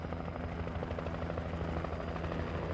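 Helicopter in the video game Alan Wake, a steady rotor thrum with rhythmic chopping pulses running loud and continuous throughout.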